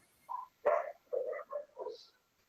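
Several dogs bark in short separate bursts at a house during an online class, about five yaps spaced over two seconds at moderate distance with no talk over them.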